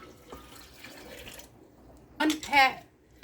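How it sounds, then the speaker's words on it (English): A cup of hot water pours from a vessel into pizza bread dough ingredients in a short, splashing stream of a second or so, following quiet, indistinct talk. "1 cup of hot water, and I'm going to pour that in now."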